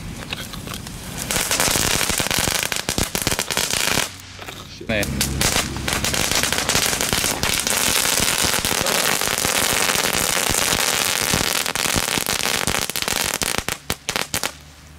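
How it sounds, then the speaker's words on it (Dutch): Rapid bursts of loud crackling firecrackers (Aldi knetterrotjes) popping and banging nearly nonstop, with a brief pause early on and a short spoken word. "dit is beter dan rotjes, hoor. Knetterrotjes."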